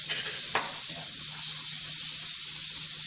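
Ingredients for pansit fry in a pan, making a continuous, close, even sizzle and hiss throughout, with a faint clink near the start.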